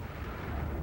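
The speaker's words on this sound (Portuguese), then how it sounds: "provocando uma imensa explosão" Fireballs explode in Jupiter's atmosphere as a brief, loud, deep rumbling roar that stays dense and sustained with no voices.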